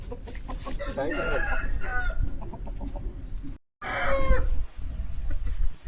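A 14-month-old rooster crows loudly several times, with hens clucking and farmyard chatter around it; a brief silence breaks the sequence midway.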